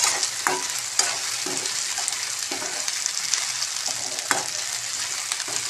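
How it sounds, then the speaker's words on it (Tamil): Turkey berries (sundakkai) sautéing in a pan: a constant hissing sizzle with repeated scraping spatula strokes, close and fairly loud, no voices. "சுண்டக்காய் வதக்கும் போது விதையெல்லாம் கொஞ்சம் தெரிக்குங்க பார்த்து கொஞ்சம் ஸ்லோலே வச்சு வதக்கிக்குங்க"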